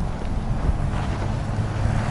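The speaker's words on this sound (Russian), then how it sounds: "Очень сильный ветер" Strong wind buffeting the microphone, a constant low rumbling roar with no voices.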